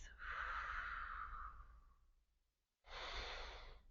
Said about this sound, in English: Breathing in the air into our lungs.